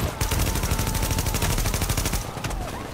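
A turret in Tom Clancy's The Division shooter game unleashes a loud, continuous stream of rapid automatic fire, a dense pounding burst lasting nearly three seconds with no talk over it.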